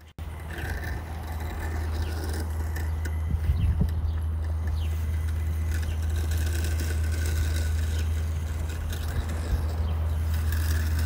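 A Segway Navimow i105n robot lawn mower cutting grass, giving a steady low motor hum with a soft hiss of blades through grass, close and continuous with no talking.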